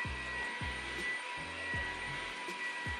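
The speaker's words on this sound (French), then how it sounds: "Ok, on va passer un petit coup d'aspi." A vacuum cleaner runs steadily at close range in a home being cleaned, giving a constant whirring motor drone with a rhythmic thumping underneath.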